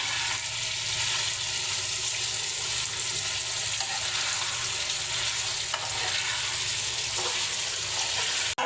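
Chicken meat and potatoes are stirred in a hot pan, with a constant loud sizzle of frying under scraping stirs, close up and with no voices.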